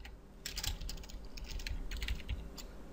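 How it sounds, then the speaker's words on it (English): Keystrokes on a computer keyboard, a quick uneven burst of close, crisp clicks typing in a single word, with no voice over them. "So we're going to type in vertex."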